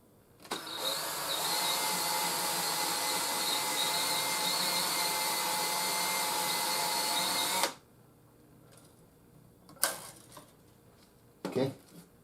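A power tuning winder spinning the tuning pegs of a custom bass guitar, a loud steady whirring drone for several seconds that cuts off, followed by a few brief louder mechanical rattles.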